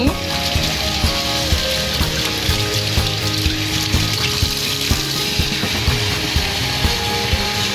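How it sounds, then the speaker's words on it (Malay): Tap water pours steadily over cooked kway teow noodles for a Pangkor-style laksa, a continuous close splashing hiss with brief clinks of handling throughout. "Buka air, lalukan ke atas mi ni."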